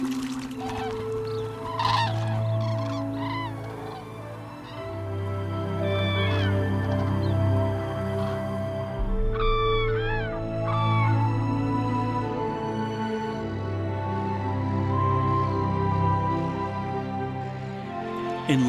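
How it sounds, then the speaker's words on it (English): A flock of black-headed gulls gathers over a drained fishing pond in Lusatia, sending out repeated harsh squawks and cries that overlap near and far above a steady low rumble. "Black-headed gulls are straight on the scene as soon as the fishing is dried up."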